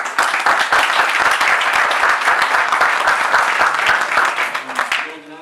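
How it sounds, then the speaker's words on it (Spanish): An audience applauds a professor before an astronomy lecture on the life of stars, brisk steady clapping for about five seconds that fades out at the end as a voice begins. "Un aplauso por el profesor."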